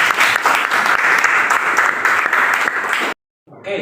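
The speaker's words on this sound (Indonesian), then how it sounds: "kasih aplaus untuk Dimas" Classroom applause from students during a teaching practice lesson, steady dense clapping for about three seconds, then a sudden stop and brief silence before the room noise resumes.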